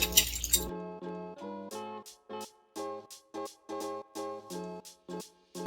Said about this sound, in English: I'm just going to take my whisk and whisk everything together